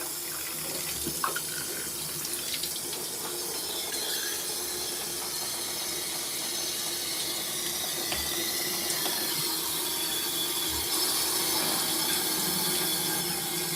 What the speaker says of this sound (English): Put it back on wash mode so it can rinse.